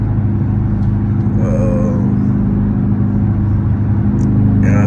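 A Dodge Charger SRT8 shifted by hand cruises along a highway, its engine giving a steady, loud, close low drone from inside the cabin, with a faint whine over the top and no talk.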